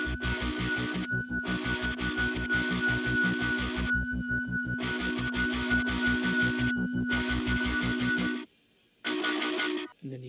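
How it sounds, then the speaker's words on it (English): Heavily distorted djent guitars hammer out a fast, tight stream of palm-style downstrokes picked right by the bridge, with ringing pinched harmonics squealing on top; loud and steady, stopping briefly near the end before one last burst. "this is where I'm taking my pick and just playing so close to the bridge"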